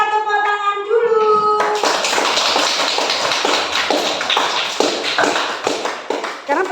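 A classroom of children claps together in a fast, steady rhythm of sharp hand claps after a short spoken exchange, with a teacher's voice at the start.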